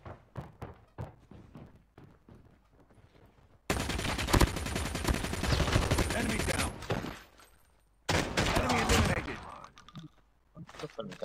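Sniper gunfire in a shooter video game: sharp, loud bursts of shots in two dense clusters, separated by quieter stretches of soft taps and footsteps, with a voice talking in between.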